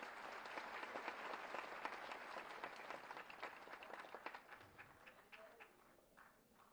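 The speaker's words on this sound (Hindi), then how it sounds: "आप सभी अपनी तालियों की शुभकामनाएं मंच तक पहुंचाएं।" Audience applause at a government ceremony in Uttar Pradesh where appointment letters are handed to newly selected staff nurses; steady, fairly faint, dense clapping from a large crowd that continues throughout without a break.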